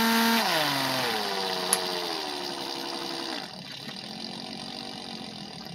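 A Harbor Freight half-inch impact wrench runs steadily as a loud, high motor whine whose pitch dips as the trigger eases off, then settles into a lower, rougher drone.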